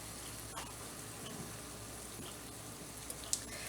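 Cinnamon French toast fries in grease in a pan, a quiet continuous sizzle with a couple of small ticks and pops near the end.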